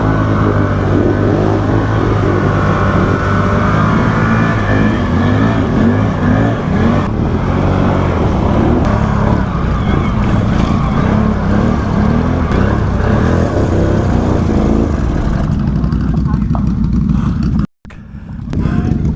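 A four-wheel drive vehicle's engine drones and revs steadily at close range while driving off-road, loud and continuous before cutting out abruptly near the end.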